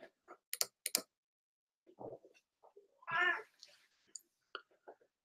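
A cat nearby gives a few short meows and one longer drawn-out cry among scattered small clicks and ticks in an otherwise quiet room.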